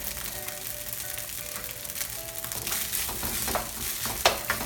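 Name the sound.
stirring fried rice in a pan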